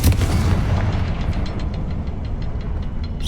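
A Confringo fire spell bursts in Hogwarts Legacy inside a cavern, with a deep rumbling blast rolling into a dense, sustained roar that holds loud throughout.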